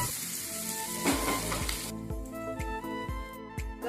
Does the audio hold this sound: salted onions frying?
yes